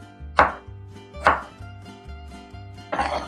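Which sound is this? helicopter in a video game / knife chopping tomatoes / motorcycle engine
knife chopping tomatoes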